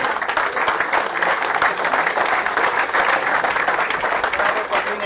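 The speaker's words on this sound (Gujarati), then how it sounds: "જોરદાર તાળીઓથી આપણે એમને વધારીશું" Steady, dense applause from a crowd at an outdoor cricket tournament final's trophy presentation, sustained and loud for the whole stretch with no break.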